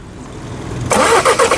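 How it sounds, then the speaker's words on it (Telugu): A Volkswagen Vento Highline automatic with a TDI diesel engine turns over and fires up abruptly after a brief lull, settling into a loud, close, smooth running note. "టీడీఏ ఇంజన్ అండి ఇంజన్ యొక్క నాయిస్ కూడా సైలెంట్గా అయితే ఉంది"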